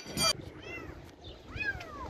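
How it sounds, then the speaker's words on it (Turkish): A kitten rescued from a building's exterior cladding gives two thin, high-pitched meows, close by, after a short noisy burst at the start. "bu yavru kediyi kurtardık"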